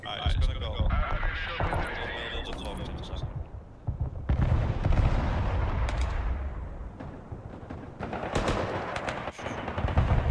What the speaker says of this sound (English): Okay, I'll start to bombing up all the buildings.